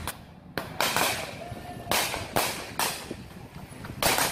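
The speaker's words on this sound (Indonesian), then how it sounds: "Bahkan mereka memberondong tembakan di Polres Sika." Navy soldiers fire repeated bursts of gunfire at a police headquarters in Sikka during an anniversary celebration: about seven sharp, loud cracks at uneven intervals, each followed by a brief echoing decay.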